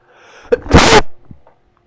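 A single loud, close sneeze, preceded by a quick intake of breath, then quiet.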